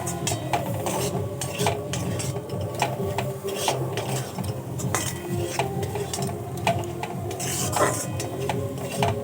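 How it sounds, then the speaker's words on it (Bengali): A spoon repeatedly scrapes and clatters through cabbage filling mixed with chopped coriander leaves in a pan, a close, rhythmic stirring with metallic knocks and light sizzle underneath. "ধনেপাতা দিয়েও আমি খুব ভালো করে মিশিয়ে নেব"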